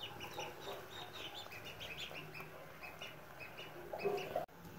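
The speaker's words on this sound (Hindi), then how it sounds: "इस साइड पे चूजे" Newly hatched ducklings and adult ducks cheep and cluck steadily in a farmyard, with busy overlapping peeping throughout and a louder burst of calls near the end.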